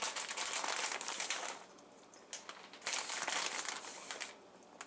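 A plastic bag of shredded cheese crinkles and rustles while being emptied, roughly 8 ounces in the bag, with bursts of crackling close up, a quieter pause midway, then more crinkling.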